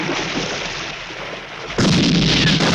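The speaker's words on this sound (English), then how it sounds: "That was a good explosion." A movie explosion from the 1977 Bond film The Spy Who Loved Me follows a rushing, rumbling noise, then erupts into a loud, broad blast that keeps roaring at full strength.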